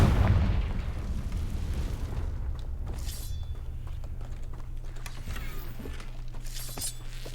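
In a magic-themed video game, a Confringo fire spell goes off with a loud, close blast at the start, followed by a lingering low rumble and scattered crackles and pops.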